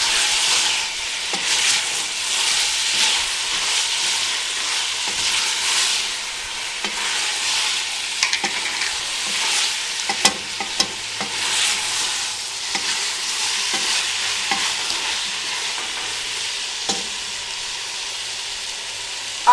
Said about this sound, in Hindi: अब 3 से 4 मिनट के लिए अब इसमें अच्छी तरह भून लें।